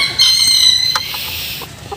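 Silkie chickens give a brief, fairly loud call close by, a held squawk-like note that fades out within about two seconds.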